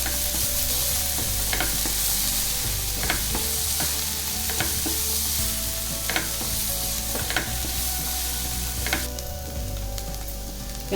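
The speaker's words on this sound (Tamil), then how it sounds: "இப்போ வெங்காயமும் பச்சை பட்டாணியும் கொஞ்சம் வதங்கட்டும்" Onion and green peas sauté in a pan for potato bonda filling, giving a loud constant sizzle with intermittent scraping stirs and a low steady hum of a stove or fan underneath, with no speech.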